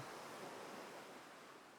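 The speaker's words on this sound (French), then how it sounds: "Le mouvement des vagues qui caressent le sable et repart." Ocean waves wash over a sandy shore in a steady, soft rush of surf, continuous and fairly faint, with no voices.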